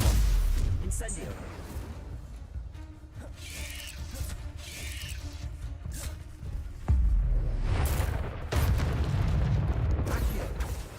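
An Incendio fire spell cast in the game Hogwarts Legacy, heard as heavy booms and mechanical clanks with a loud burst near the end, amid other game effects.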